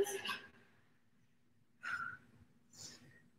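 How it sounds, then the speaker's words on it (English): Heavy breathing during a live workout: three loud, breathy exhalations spaced roughly a second apart, close to the microphone and with no talk over them. "I'm feeling you guys can definitely hear my breathing."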